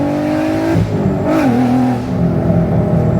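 A Volkswagen MK6 with a swapped 3.6 VR6 4Motion engine revs hard in first gear and climbs in pitch as it accelerates, loud and close, with no talking.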